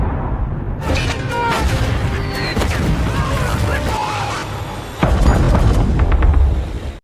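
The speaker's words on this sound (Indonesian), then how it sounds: "mobil musuh kembali datang dan menurunkan para anggotanya yang membawa mortir lalu menghujani pasukan Kinley dengan mortir" Mortar rounds burst in a war film battle, a steady roar of booms and crackling blasts with a sharper, louder impact near the end, while voices are mixed in underneath.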